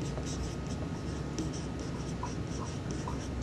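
A marker squeaks and taps across a whiteboard in a programming lecture, short strokes in quick succession over a low room hum, close and clear with no speech.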